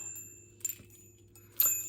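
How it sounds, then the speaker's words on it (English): Witch's bells hanging on a house's front door give two brief bright jingles, one short shake and then a louder one near the end, over a faint low hum in a quiet room. "So I have in my house bells"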